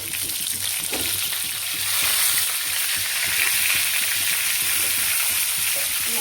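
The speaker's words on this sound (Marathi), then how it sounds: "लसूण आपलं लाल झालेलं आहे. याच्यामध्ये आता वांगे सोडते." Eggplant pieces drop into hot oil where garlic has already browned, setting off a loud, steady sizzle and crackle of frying that holds throughout, with some stirring.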